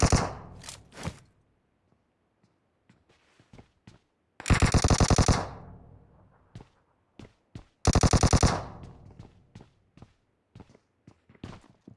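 Bursts of DP machine gun fire in the mobile shooter PUBG Mobile, two loud sustained volleys of rapid shots with a short opening burst, separated by scattered single cracks and footsteps, no talk.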